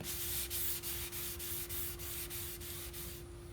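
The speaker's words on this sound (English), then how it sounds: "So I sand this piece all over." Extra fine grit sandpaper wet-sanding a chalk-painted furniture piece by hand, with steady back-and-forth strokes in an even rhythm, close and quiet, a low hum underneath and no voices.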